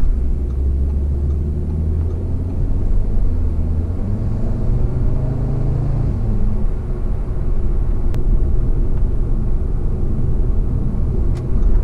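Audi RS3 sedan accelerating hard to overtake, its engine note climbing steadily in pitch through the rev range as a deep, loud rumble from inside the car, with no talk over it.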